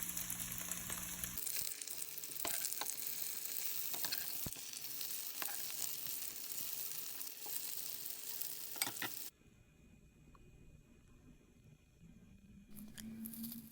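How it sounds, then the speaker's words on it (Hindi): Potato cutlets frying in hot oil over a medium-high flame, a dense steady sizzle that runs for several seconds before dropping to a much quieter background hiss. "तेल हमारा अच्छा गरम हो गया है। इसको मीडियम हाई फ्लेम में हम फ्राई करेंगे।"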